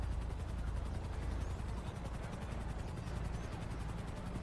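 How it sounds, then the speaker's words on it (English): A helicopter drones overhead with a steady, low rhythmic rotor thump, continuous and fairly close, dominating the outdoor scene without speech. "So you guys got helicopters"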